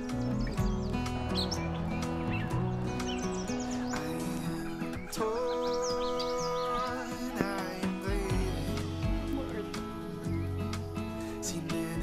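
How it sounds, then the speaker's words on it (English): A yellow warbler sings amid a busy Wisconsin marsh during spring warbler migration, its bright chirping phrases repeating over a dense background of other birdsong, fairly close and steady throughout. "and then the most common warbler, the yellow warbler."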